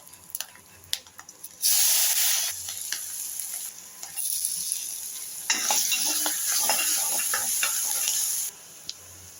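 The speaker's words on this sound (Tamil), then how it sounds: "கருவேப்பிலை பெருங்காயம் இஞ்சி எல்லாம் போட்டு பச்சை மிளகாய் எல்லாம் போட்டு வதக்கலாம்" Green chilies, curry leaves, asafoetida and ginger sauté in hot oil after mustard seeds have popped, for a plantain podimas. Loud bursts of sizzling start and stop with crackles, close up and without talk.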